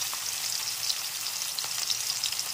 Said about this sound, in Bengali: হাই ফ্লেমে রেখে মাছগুলো ভেজে নিচ্ছি এপাশ ওপাশ করে